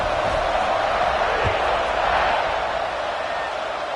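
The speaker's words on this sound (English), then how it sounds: "this crowd is feeling themselves after that last drive" A large crowd roars steadily at a college football stadium during an Auburn game as the kickoff unit takes the field, a loud, dense wall of cheering that holds for several seconds with a commentator talking over it.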